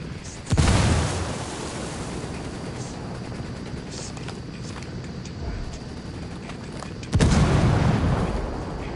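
Two booming frag grenade explosions in a PS4 shooter game land near a building, each a loud sudden blast with a rumbling tail, separated by a stretch of continuous battle noise.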